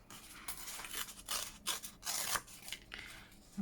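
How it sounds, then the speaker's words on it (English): Paper packaging has its edges torn off by hand for a junk journal, producing a series of short, rough ripping bursts up close, some longer and some clipped, with no talk. "So I'm going to tear the edges off."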